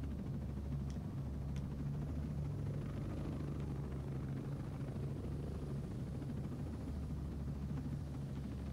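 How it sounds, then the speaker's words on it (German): A helicopter flies steadily in Ghost Recon Breakpoint, its low rotor drone and rumble holding at an even level throughout, close and continuous with no talk. "Ich will den Hubschrauber nicht kaputt machen."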